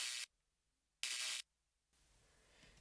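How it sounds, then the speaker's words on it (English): An electric-sounding texture effect in an FL Studio beat, two sharp bursts of bright static-like hiss separated by silence, followed by a faint crackling tail. "And this is just another kind of texture or effect type of sound."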